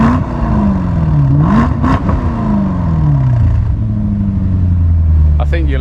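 A Range Rover 530 with the 4.4-litre V8 and QuickSilver Sound Arch exhaust revs loudly up close, its note climbing and falling through several throttle blips before settling into a deep, steady rumble.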